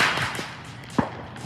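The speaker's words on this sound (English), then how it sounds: "with all these fireworks going off, they're having a heyday" Fireworks going off outdoors at night, sharp whip-like cracks and pops, one louder bang standing out among fainter distant bursts, with no voices.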